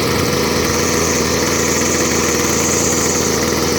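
A Husqvarna 122C string trimmer's small two-stroke engine runs loud and close, holding a steady, buzzing drone with no break and no voices.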